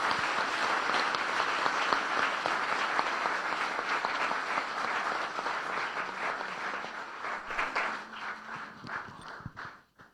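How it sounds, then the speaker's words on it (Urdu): Loud, sustained applause from a church congregation fills the space evenly for several seconds, then thins into scattered claps before fading out. "یسوع کے لیے زوردار تالیاں."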